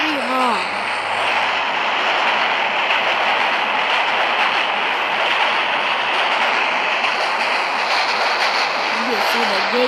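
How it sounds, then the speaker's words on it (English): A long train rolling steadily through a crossing in a train-crossing video game, a constant dense rumbling roar that holds for the whole stretch, loud and close, with crossing bells ringing faintly at the start and end. "The trains in this game is very long."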